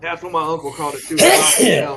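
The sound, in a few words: sneeze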